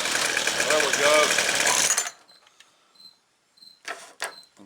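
A small two-stroke engine on 2-cycle equipment with a carburetor needing tuning runs loud and buzzy for about two seconds, then cuts off, followed by faint clicks and handling noises.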